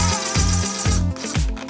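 A power driver sends trim screws into wood to attach a corbel by a doorway, a loud close mechanical whirring with rhythmic pulses, running in quick bursts with no voices.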